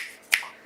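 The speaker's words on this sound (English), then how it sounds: "if I snap my fingers" A single sharp finger snap rings out close and alone in a quiet room where paper cards are being stamped and crafted.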